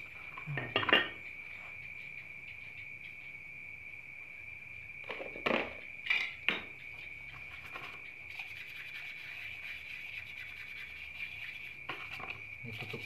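Small Honda GX200 engine parts clinking as they are washed in gasoline, a few sharp metallic clinks in bursts over a quiet background with a steady high whine.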